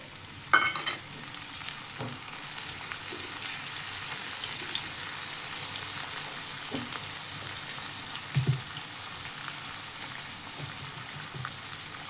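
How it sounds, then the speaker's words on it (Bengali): Chopped tomato and slit green chillies tipped into browned onions in a hot pan, giving a steady close sizzle and frying crackle with a few stirring knocks and clatters throughout. "এর মধ্যে আমি টমেটো কুচি দিচ্ছি, 4টে চেরা কাঁচা লঙ্কা"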